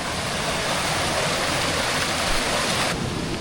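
A creek at night flows with a constant broad rushing and gurgle of water, steady and fairly close, with no voices.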